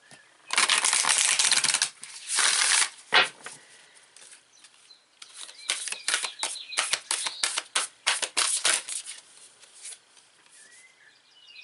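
A deck of tarot cards being shuffled by hand, heard as loud, close bursts of riffling and flicking, first in long sustained runs, then as a series of quicker, choppier snaps, with no talking.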